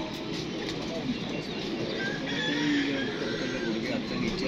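Pigeons kept by a pigeon fancier, set out in the sun at a kabootarbazi gathering, give soft bird calls amid a steady murmur of crowd noise and nearby voices.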